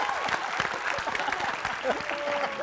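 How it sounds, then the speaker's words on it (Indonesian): Studio audience applause on a late-night talk show, a dense sustained wash of clapping with crowd noise and some voices mixed in, fairly loud throughout. "Oke, tepuk tangan buat Vicky."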